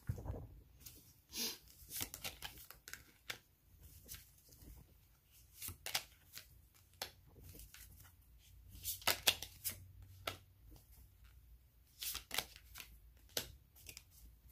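Tarot cards shuffled by hand in a quiet room, a steady run of soft riffling snaps and paper slides with brief pauses between bursts, close and alone with no talk.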